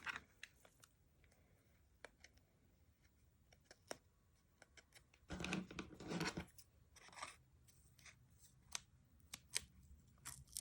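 Faint dull scissors snipping paper at close range while making a card, with scattered small clicks and a short burst of cutting in the middle.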